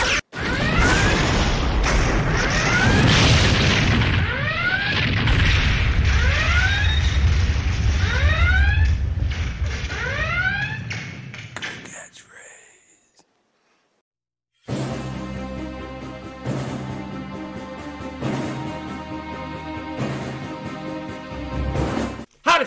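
Spaceship weapons fire and explosions played as a sound effect in a comedy skit: loud, dense rumbling blasts with repeated descending zapping shots, a sudden cutoff into silence, then a busier stretch of layered effects and tones.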